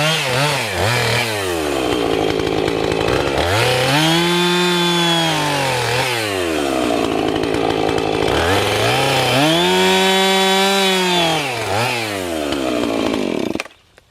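Chainsaw bucking a log into firewood, engine revving up in two long loud cutting passes with rising and falling pitch between them, close by and alone.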